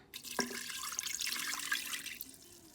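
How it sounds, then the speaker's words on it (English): Water pours in a steady stream into a metal pressure cooker, with a splashy start and a continuous gurgling rush close by. "So first I'm gonna pour about 1 1/4 cup of water in here."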